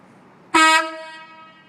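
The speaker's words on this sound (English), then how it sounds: "It just requires that he has the horn" A commercial truck's horn sounds once during a roadside vehicle inspection, a loud, bright honk that rises abruptly and holds for about half a second before ringing away.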